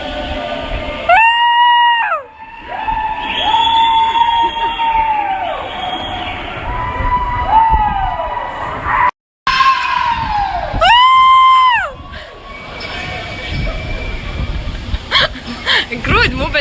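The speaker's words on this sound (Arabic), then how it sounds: "فجأة وانا قاعدة اصور الصراخ" Neighbors scream and yell from balconies during spring break, with several long, high-pitched, wavering shouts that rise and fall, some overlapping, loud and close, over a constant outdoor background.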